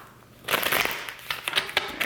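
Tarot cards shuffled by hand, a brisk papery riffle and crackle that starts after a short quiet pause and continues with sharp flicks and snaps, fairly close and loud with no talking.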